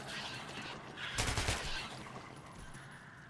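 Gunfire in the video game Metro Last Light Redux, a short loud burst of shots rising over background game noise and then fading.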